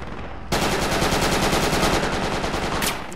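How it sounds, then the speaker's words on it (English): Sustained automatic gunfire from the military video game Project Reality bursts in after a brief quiet moment and then runs as a rapid, loud, evenly spaced stream of shots. "I'm taking fire, I can't see."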